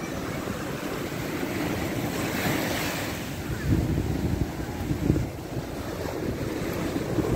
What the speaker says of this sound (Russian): Вот это быстрая волна.